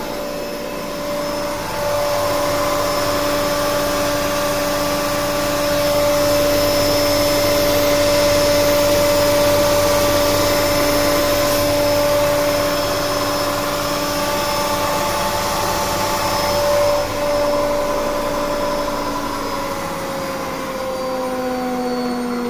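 A Whirlpool washing machine runs after motor maintenance, with a loud, steady motor whir and a sustained tonal hum that stays even throughout and has no talk.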